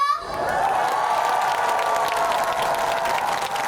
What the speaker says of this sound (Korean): 상무 면민 음악 축제 대박 나라고 다 같이 박수 함성!